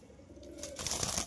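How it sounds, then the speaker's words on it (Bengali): A white and green male betting pigeon gives a short, low coo near the start, followed by a louder burst of rustling and flutter-like noise. "সাদা সবুজ নর কবুতর"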